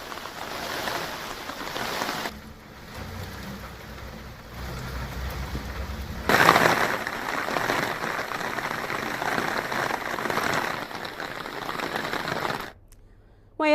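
Heavy rain pours over flooded city streets in Guwahati, Assam, a dense steady hiss with a brief quieter stretch and a louder surge midway, running on alone without talk.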